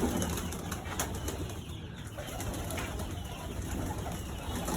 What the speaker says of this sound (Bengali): এখানে আমার উড়ানো কিছু কবুতর আছে